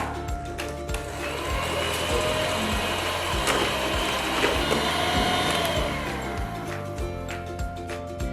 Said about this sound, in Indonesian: Di mixer bisa bertahap, mixernya dari kecepatan sedang sampai ke tinggi dulu ya.